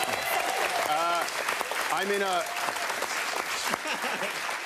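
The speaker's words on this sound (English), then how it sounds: "I can't handle that loud clapping." A studio audience at a comedy panel show claps loudly and steadily in a dense patter, while someone speaks and laughs over it before the applause fades.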